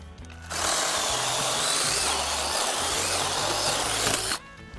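A cordless battery-powered saw cuts firewood outdoors in a forest, a loud, steady buzzing whine that starts abruptly and runs for about four seconds before cutting off, with no talking.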